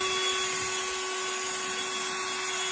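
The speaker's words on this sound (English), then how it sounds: "this cordless snow blower swoops in to save the day, clearing your ride with ease and precision" Cordless snow blower clearing snow from a driveway, a steady broadband motor whine with a sharp constant tone, holding at the same level throughout with no voices.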